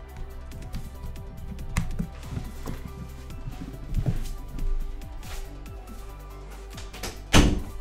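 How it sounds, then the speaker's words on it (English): A room door being shut, heard as a few scattered thuds and knocks with a louder bump near the end, over faint background noise. "I'm gonna close the door really quick"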